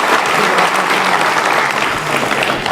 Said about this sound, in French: Ça mérite que vous l'applaudissiez.